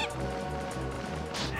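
In The Legend of Zelda: The Wind Waker HD, a seagull squawks with honking, goose-like calls amid a busy game soundscape, ending in a louder burst.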